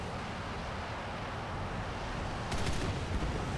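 Aircraft cannons on an R2Y2 Kai V2 in War Thunder fire a short, loud burst near the end, over a steady roar of engine and wind noise.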